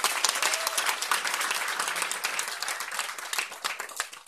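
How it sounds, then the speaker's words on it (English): An audience at a church clergy council fellowship dinner claps their hands, giving dense, sustained applause that carries evenly through the whole stretch without talk. "Let's give God a hand clap tonight."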